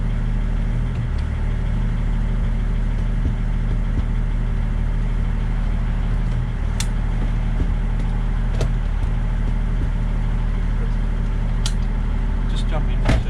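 A Toyota Land Cruiser Troopy with an M57 engine runs steadily in low range. Its drone stays low and constant throughout, with occasional faint clicks and knocks on top.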